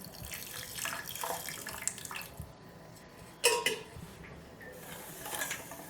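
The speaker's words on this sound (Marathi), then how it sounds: "ही साखर भिजेल एवढंच पाणी घालायचं आहे" Water runs and splashes steadily onto sugar in a container, with a brief louder splash midway.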